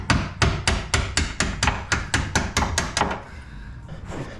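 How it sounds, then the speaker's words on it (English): Hammer blows on a seized bolt in a first-generation Cummins truck frame near the radiator core support bushings: about a dozen sharp, loud metallic strikes in a steady rhythm, then quieter scraping and a couple of lighter taps. "I'm just gonna bash up on that bolt there and try and get that out"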